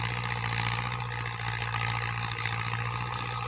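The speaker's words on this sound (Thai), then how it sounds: "ขุดสองคันนะครับ มีรถไถฟอร์ดกับไถคูปต้านะครับ L47 นะครับ" A Ford 6600 and a Kubota L47 tractor dig leftover cassava in a flooded field, giving a steady, continuous engine drone with a low hum throughout and no talking.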